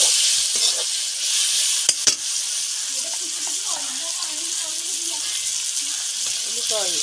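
Chicken with chilli and turmeric powder fries in a pan, giving a steady close hiss of sizzling. A couple of sharp scraping knocks come from the stirring, and a faint voice is heard in the background.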